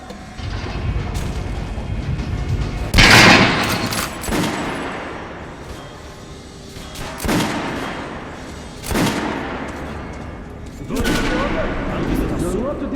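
Gunfire at an underground shooting range in Metro: Last Light Redux on PS4, with several loud shot bursts spaced a second or two apart over steady game ambience.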